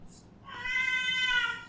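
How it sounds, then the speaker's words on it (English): A cat meows once, a drawn-out, clear call rising to full loudness and holding, close by over a low background hum. "Oh, there's my cat."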